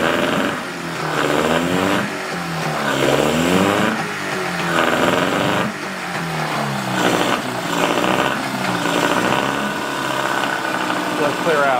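Small outboard boat engine revving unevenly, apparently running rough on one cylinder, loud and close with wavering pitch rises and falls, talk mixed in over it.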